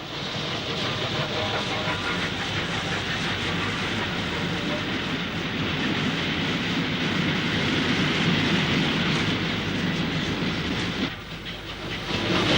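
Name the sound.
Black 5 steam locomotive hauling train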